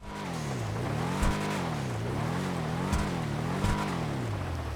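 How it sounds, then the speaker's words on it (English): A rare muscle car in GTA Online drones steadily under throttle, its exhaust note sharing the Dominator GT sound and swelling and dipping in pitch in repeated waves, with a few brief thumps. "I think it shares the same exhaust sound as the Dominator GT"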